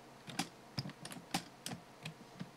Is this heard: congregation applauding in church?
no